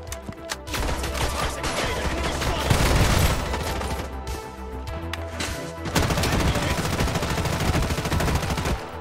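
M4 rifle gunfire and cover fire in the video game Project Bloodstrike: dense, rapid automatic bursts that run almost continuously, with brief gaps between volleys and faint voices underneath.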